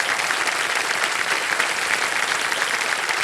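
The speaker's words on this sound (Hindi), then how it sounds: "जी हाँ, ताली बज जाए इनके लिए।" Studio audience on the quiz show Kaun Banega Crorepati season 17 breaks into sustained, dense applause after a contestant wins, a steady loud wash of clapping with no pauses.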